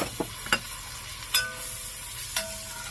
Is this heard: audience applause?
no